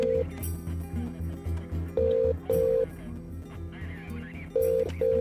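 A telephone being dialed in a Hindi comedy scene: a series of short, steady keypad tones in an uneven rhythm, fairly close and clear over a low background hum.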